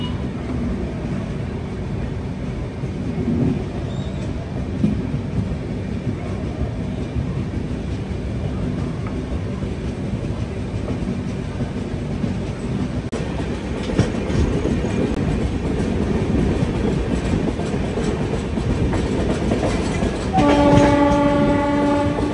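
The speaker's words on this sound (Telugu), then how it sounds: "నెల్లూరు నుంచి మన ట్రైన్ అయితే బయలుదేరింది" A Howrah–Chennai AC Biweekly Superfast Express runs from Nellore toward Gudur with a steady loud rumble and wheel clatter. Near the end the horn sounds in one sustained tonal blast.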